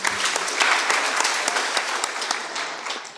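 An audience claps for the Singora Girls debate team after a school debate result, dense sustained applause filling the room, fairly loud and close, tapering slightly at the end.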